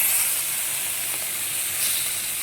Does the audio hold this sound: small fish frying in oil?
yes